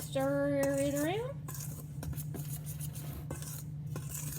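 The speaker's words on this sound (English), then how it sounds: "And then I'm going to stir it around." A big serving spoon scrapes and clinks around a bowl while stirring cornbread mixture, giving a steady run of soft scraping strokes and taps, close by. A brief vocal sound at the start rises over a low background hum.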